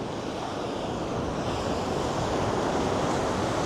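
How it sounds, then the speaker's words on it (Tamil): Ocean surf washes steadily onto a beach in Goa, a continuous close rush of breaking waves with wind buffeting the microphone. "நல்ல காற்று, அதே போல் அந்த அலையோட சத்தம்"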